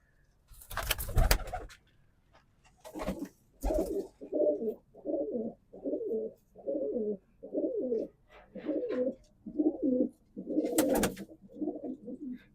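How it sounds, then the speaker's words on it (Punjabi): Pigeons coo close by in a regular series of soft, throaty bursts, about a dozen in a row, with a couple of louder rustles mixed in. "ਇਹ ਵੀ ਗਰਦੇ ਵਾਲੇ ਹੀ ਆ ਕਬੂਤਰ"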